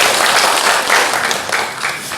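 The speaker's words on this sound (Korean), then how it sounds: "하나님께 영광의 박수 올려드리고 자리합니다." A congregation at a Korean church's Sunday service claps together in a dense, even wash of applause that carries on steadily throughout.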